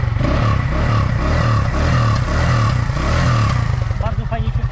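A Junak motorcycle with a modified carburetor runs loud and close, its engine revving in steady rising and falling pulses, with a rapid putter at the end and people talking over it.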